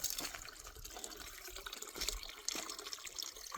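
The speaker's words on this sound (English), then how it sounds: "I hear a waterfall." A small waterfall hidden under brush trickles and splashes faintly, a soft continuous rush of falling water with no voices.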